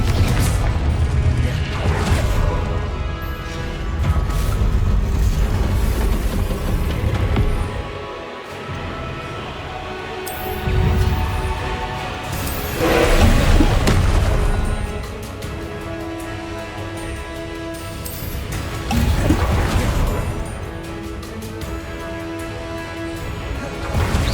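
Confringo spell blasts in the Hogwarts Legacy game, with booming, crackling explosions that swell repeatedly over a continuous loud backdrop of combat effects and music, close and heavy, with no talking.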